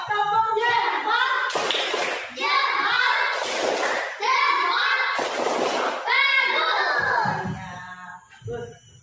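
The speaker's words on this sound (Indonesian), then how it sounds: "tepuk tangan dulu untuk kelompok singa" A fifth-grade primary classroom of children claps together for a student group, in three short loud bursts of rhythmic clapping mixed with a group chant of young voices, then a brief quieter pause.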